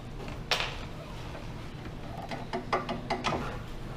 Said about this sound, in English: it's a 17 mil socket, and we're going to remove the bolt from there